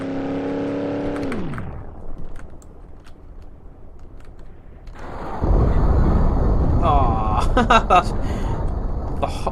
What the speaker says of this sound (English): we're just going to absolutely punch it with the Gavriel Barstow, see what kind of speed we can get up to